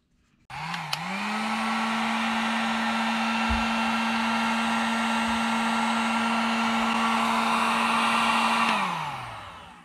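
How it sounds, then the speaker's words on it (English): A heat gun switches on and blows a steady, loud whirring hum while warming a brake caliper on a 2021 Tahoe/Yukon before painting, running alone for about eight seconds before winding down. "So if I can put a heat gun to this and get the temperature of the metal up a little bit"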